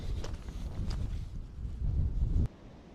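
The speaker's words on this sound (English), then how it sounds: "It is a bit blowy down here" Gusty wind buffets the microphone on a coast beside an abandoned quarry, a steady low roar that swells and then drops off abruptly, with no talking.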